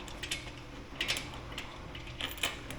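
Seat being taken off an Indian Sport Chief motorcycle, a series of close, sharp mechanical clicks and clunks with scraping between them, fairly quiet and with no talk.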